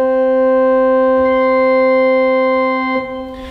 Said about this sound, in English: And the 2-foot 15th sounds an octave higher still.